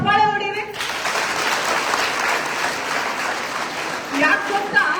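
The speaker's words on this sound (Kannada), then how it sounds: "ಅವಳಿಗೆ ಚಪ್ಪಾಳೆ ಹೊಡೀರಿ." Loud, sustained applause from an audience at an interaction event with girl students, lasting several seconds between stretches of a speaking voice before and after.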